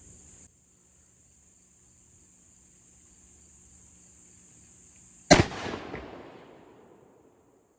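A single sharp rifle shot while sighting in guns at an outdoor range, loud and close, with a rolling echo that fades over about two seconds after a long stretch of quiet insect chirping.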